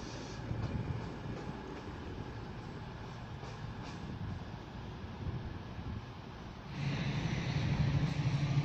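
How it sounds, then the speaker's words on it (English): A Freightliner freight train led by a class 70 diesel locomotive approaches a platform at Manchester Piccadilly, a steady rolling rumble with wind noise that swells louder and closer near the end. "a Freightliner with a class 70 on the front is now approaching platform"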